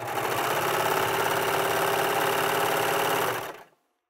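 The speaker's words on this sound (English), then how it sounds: "I'm just going to serge the thread out, and that's going to clear my overlock needle 1 thread path." A serger overlock sewing machine runs to clear thread from a 3-thread stitch setup, a loud, steady mechanical whir lasting about three and a half seconds before stopping abruptly.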